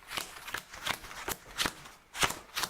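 Playing cards shuffled by hand at a tabletop game, six or seven crisp riffling bursts in an uneven rhythm, close and clear with no talking.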